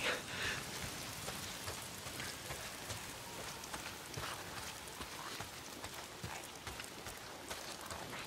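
Steady, dense rain in the video game Days Gone on PS4 pours down continuously with scattered louder drops hitting a surface, with no voices present.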